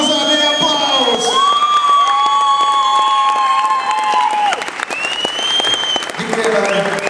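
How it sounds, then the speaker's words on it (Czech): A large audience at a gala evening in Pardubice gives loud, sustained applause with cheering and whoops, and shouts and voices rise throughout the noise. "ať Ideol uslyší pořádný aplaus!"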